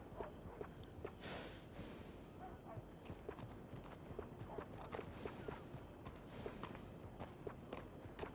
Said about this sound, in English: This horse will pass for nobility when I'm through.